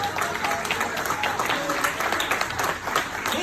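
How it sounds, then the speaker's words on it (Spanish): A church audience applauds loudly, a dense continuous clatter of many hands that fills the whole few seconds, with faint voices underneath. "Denle ese aplauso fuerte al Señor"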